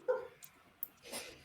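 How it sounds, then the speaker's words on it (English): A pet dog named Sir Francis Bacon II gives a couple of short, faint barks and yips from across an apartment, distant and thin against quiet room tone. "Oh, that was the dog you were talking about."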